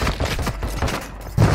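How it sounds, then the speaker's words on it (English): Gunfire in the Call of Duty Warzone video game on Ashika Island, a rapid string of close, punchy shots in quick bursts across a short moment. "Taking effective fire."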